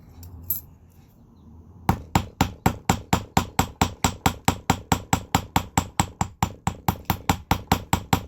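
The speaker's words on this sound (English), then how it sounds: "hit straight down when I'm hammering close to that little internal shape" Steady, evenly spaced hammer strikes ringing on a metal part near a pierced internal shape, close and loud, about four blows a second after a quiet start.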